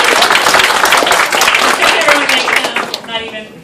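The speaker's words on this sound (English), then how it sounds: "So let's applaud them for that." A convention audience at an anime convention closing ceremony applauding the staff, dense loud clapping from a large crowd with some cheering, fading out toward the end.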